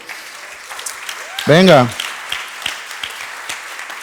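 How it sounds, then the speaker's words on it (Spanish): A church congregation applauds loudly, a steady crackle of clapping running throughout, with a voice calling out briefly over it midway. "Dale un aplauso a Jesús bien fuerte"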